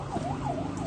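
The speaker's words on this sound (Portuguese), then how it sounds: "Ambulância." An ambulance siren wails in a rising and falling two-tone sweep, heard at a moderate distance over traffic noise in a brief burst without speech.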